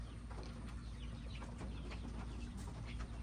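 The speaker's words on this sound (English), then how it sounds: "that's our laying hens" Laying hens clucking in a farmyard with rabbits nearby, a faint, continuous scatter of soft clucks and calls under steady background noise, no talking.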